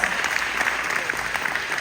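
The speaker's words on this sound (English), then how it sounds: "That's a round of applause." Town hall audience breaking into applause during a city budget meeting, a short, dense, steady burst of many hands clapping.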